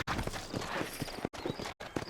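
Horse hooves clip-clop steadily in Red Dead Redemption, a dense run of hoofbeats from sturdy horses near New Orleans under a busy game soundscape, broken by two short silent gaps.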